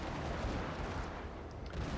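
Naval gunfire in World of Warships, fired from a Wickes-class destroyer at an enemy cruiser: a dense, continuous rumble of booming shots that stays loud and steady for the full two seconds.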